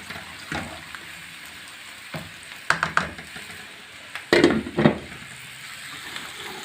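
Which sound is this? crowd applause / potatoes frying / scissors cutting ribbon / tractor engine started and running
potatoes frying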